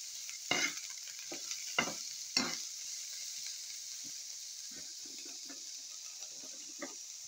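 Coriander leaves and spring onions frying in a pan give a steady soft sizzle, broken by a few sharp scraping stirs near the start and lighter clinks of a utensil later.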